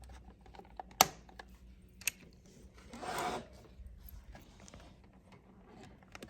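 Plastic pieces of a motorcycle audio controller panel on a 2023-2024 CVO Road Glide being pressed and clipped back together: faint tapping and small clicks, two sharper snaps, and a brief rubbing scrape.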